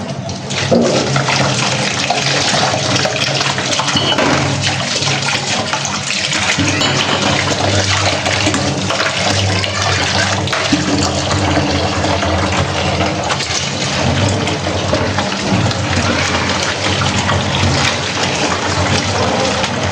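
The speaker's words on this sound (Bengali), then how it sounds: "এই কাপড়টা আমি সবসময় আর কি ভালো করে ধুয়ে রাখি" A cloth is washed under a running tap, giving a loud, continuous rush and splash of water that stays close and steady for about twenty seconds.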